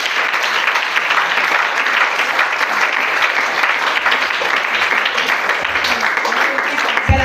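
A church congregation at a seminar with Prophetess Kasso Sidonie applauds loudly and continuously, a dense sustained roar of clapping from a large crowd with no pauses.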